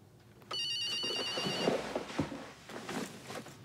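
A telephone rings indoors in a domestic TV drama scene, a bright electronic trill that starts abruptly and carries on steadily at moderate volume, with faint background movement beneath it.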